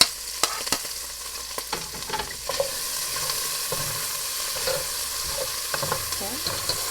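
Onion and garlic sautéing in a pan for a Filipino chayote stir-fry, a soft steady sizzle with scattered stirring clicks and scrapes, fairly quiet and close.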